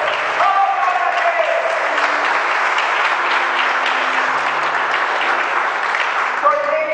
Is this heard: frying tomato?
no